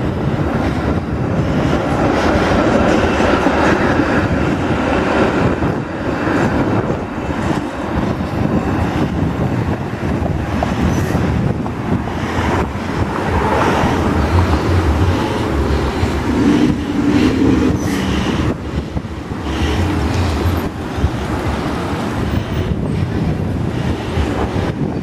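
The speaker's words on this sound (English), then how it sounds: "Here comes the streetcar." A Toronto streetcar rolls past on a busy city street, a loud continuous rumble with wind buffeting the microphone throughout.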